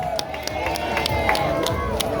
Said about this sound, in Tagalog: Mahina yung palakpak ah.